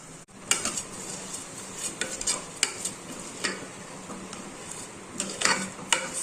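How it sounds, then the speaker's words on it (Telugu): Rice and moong dal with spices and tomatoes being fried and stirred in a pan, with scattered sharp scrapes and clinks of a spoon against metal over a low, steady sizzle. "స్పైసెస్ అన్నీ బాగా పట్టేంత వరకు ఫ్రై చేసుకోవాలి వీటిని."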